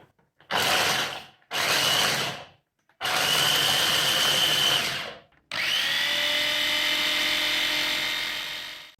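An electric kitchen grinder pulverizes almonds for a chicken curry in four loud bursts, two short pulses followed by two longer whirring runs separated by brief silences.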